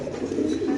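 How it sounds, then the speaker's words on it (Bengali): A pair of pigeons at a seller's stall coo softly, a low steady burbling that runs through the whole short moment with no pause. "দেখেন মাশাআল্লাহ এখানে হলো এক পেয়ার কবুতর, প্যাকেজের এক পেয়ার কবুতর"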